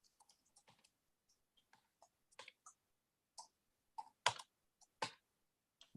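Quiet, irregular keystrokes on a computer keyboard picked up through an open microphone in an online meeting, scattered clicks and short bursts of typing with no talk over them.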